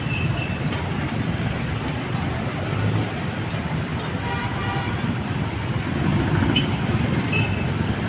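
Morning road traffic makes a constant, fairly loud rumble of passing vehicles, with engine drone and occasional brief higher sounds over the steady wash of noise.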